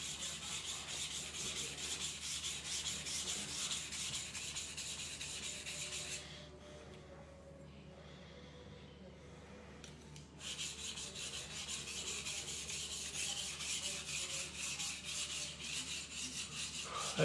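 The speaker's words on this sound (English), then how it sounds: "We're polishing a knife for the first time ever." Steady rhythmic rasping strokes rub across a Yamashine White No. 1 funayuki knife blade as it is polished, faint and continuous. A short lull comes midway, then the scraping resumes.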